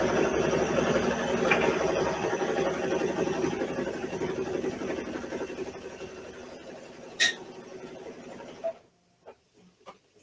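A sewing machine stitches fabric for a Kimberbell mug rug, a steady close mechanical hum for about eight seconds before it stops, leaving a few faint clicks.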